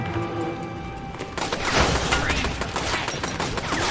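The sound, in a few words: gunfire in Bendy and the Dark Revival video game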